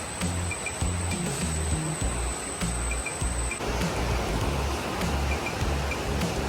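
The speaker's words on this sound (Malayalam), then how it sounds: "ചീവീടിന്റെ സൗണ്ടും കൂടി കേൾക്കുന്നുണ്ട് കേട്ടാ" Crickets shrill steadily in the forest on the trail to Kallar Meenmutty Waterfall, a thin continuous high tone with faint repeated chirps over a broad rushing wash, with no one speaking.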